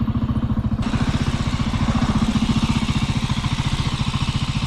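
A motorcycle engine runs close by with a steady, rapid pulsing beat, loud and even throughout, with no voices over it.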